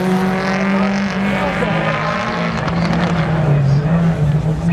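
Rally cars racing on a forest stage at the McRae Rally Challenge, engines droning loudly and steadily with shifting revs as cars pass close by.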